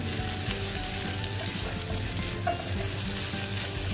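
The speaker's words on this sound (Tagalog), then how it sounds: "ngayon pwede na natin ilagay ang ating celery. Tapos, toss lang natin siya." Celery tossed in a hot stir-fry pan, producing a continuous loud sizzle and frying crackle with soft stirring movement, close up and without talk.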